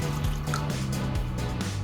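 Water is poured into mutton in a cooking pot, a steady liquid splash and trickle heard up close for a couple of seconds.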